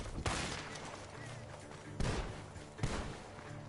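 Gunfire in a Wild West action game, three separate sharp blasts spaced about a second apart, each with a booming tail that fades into background rumble.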